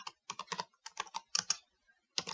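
Crisp, close keystrokes on a computer keyboard tapped out in short uneven bursts with brief gaps, as a line of Dart code is typed in a quiet room.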